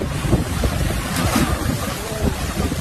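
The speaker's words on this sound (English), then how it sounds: "The waves are slamming the rocks right behind it" Waves crash against wet coastal rocks in a continuous loud roar of surf and spray, with wind buffeting close to the microphone and no clear speech.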